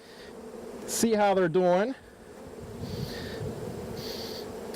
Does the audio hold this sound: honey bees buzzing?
yes